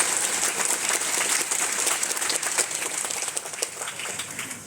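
Sustained applause from a crowd at an agricultural fair inauguration at a university, a continuous wash of clapping that slowly thins toward the end.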